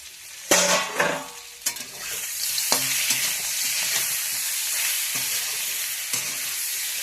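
Spinach and potato curry frying in a pan, a steady loud sizzle running throughout, punctuated by several sharp scraping stirs and knocks of the utensil against the pan.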